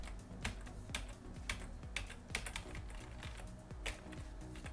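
Quiet, irregular keystrokes on a computer keyboard during a Minecraft session, with uneven bursts of clicks and taps and no one speaking.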